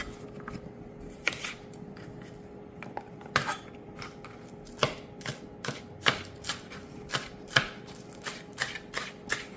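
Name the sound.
chopping scallion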